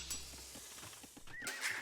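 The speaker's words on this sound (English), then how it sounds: "down goes the horse now for blue" A horse in a medieval real-time strategy game whinnies and neighs as it is killed, with a short cry near the end over busy battle clatter and clip-clop hooves.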